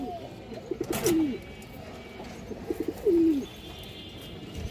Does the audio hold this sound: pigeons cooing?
yes